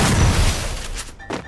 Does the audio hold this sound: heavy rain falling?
no